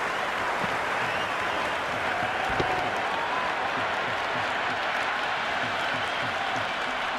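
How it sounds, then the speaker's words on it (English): A crowd in the Cricket 26 video game roars in a dense, continuous wash of cheering and applause, loud and sustained throughout. "It's evident and ever so audible that the crowd is at near bursting point at today's play"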